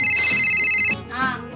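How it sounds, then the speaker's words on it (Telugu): A telephone ringtone plays loudly and steadily for about a second in a village home, then cuts off as a voice begins speaking. "ఫోన్ రింగ్ అవుతుంది, ఎవరో చూడు."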